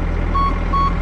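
A truck backup alarm sounds two steady reversing beeps over a loud low idling engine rumble, close and continuous, with no talking.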